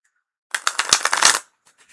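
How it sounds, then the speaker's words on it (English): A quick, crisp riffle of tarot cards being shuffled close up, lasting about a second, followed by faint soft card handling. "That was a very good shuffle."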